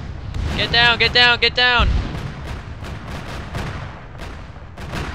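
Rocket explosions in a military realism shooter: repeated booms and sharp cracks at medium distance, with a voice shouting briefly early on.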